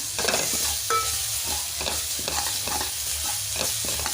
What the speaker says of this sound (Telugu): ఇందులో టమాటా ముక్కల్ని కూడా యాడ్ చేసుకొని మంచిగా కలుపుకోవాలి